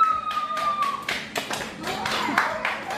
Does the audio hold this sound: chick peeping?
no